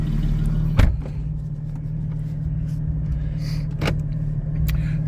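A Porsche GT4 with a PDK 7-speed gearbox and a Soul Performance V2 exhaust idles with a deep, steady rumble close by, broken by a few short sharp clicks or knocks.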